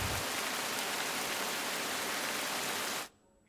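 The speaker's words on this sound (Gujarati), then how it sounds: "રાત્રે પવન સાથે વરસાદ વરસી રહ્યો છે" Night rain driven by strong wind in Kapadvanj, Gujarat, during a storm: a dense, even hiss of falling water that holds steady and then cuts off abruptly just before the end.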